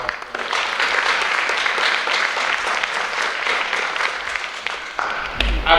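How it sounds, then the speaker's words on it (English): An audience claps steadily at a middle school writing event, a dense, sustained round of applause from a crowded room that holds for several seconds before thinning out near the end. "So let's have a round of applause."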